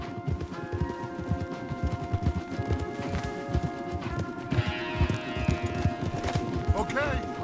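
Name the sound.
horses galloping, from video game Red Dead Redemption II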